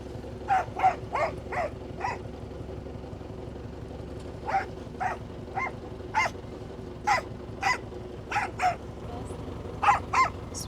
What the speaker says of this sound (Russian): Собачка их гоняет.